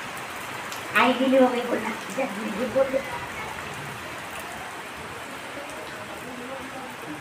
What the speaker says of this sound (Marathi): बघा मंडळी किती सुंदर पाऊस येत आहे